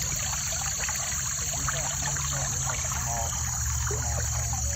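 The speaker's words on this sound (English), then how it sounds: "this is a creek. It would go through the property, and listen to it." Creek water trickles and burbles steadily through rural Tennessee land, a close, continuous flowing wash with faint background hiss and no talk over it.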